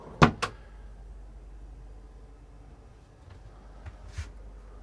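A drawer in a Hanse 460 sailing yacht's cabin, heard as two quick sharp clacks at the start and a few softer knocks later over quiet room tone.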